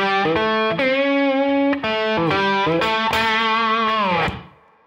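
An electric guitar in standard tuning plays a short slide lick with sliding, gliding notes and a slightly distorted tone, ringing out clearly before fading.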